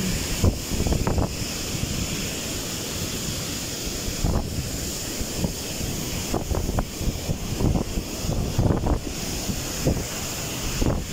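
Ocean waves pounding a shore near a boat during Typhoon Egay, with a continuous roar of surf and gusty wind buffeting the microphone throughout.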